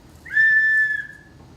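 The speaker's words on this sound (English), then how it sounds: "I also made a whistle, but this one is kind of smaller," A small homemade whistle gives one steady, clear tone for under a second, fairly loud and close, with no one talking over it.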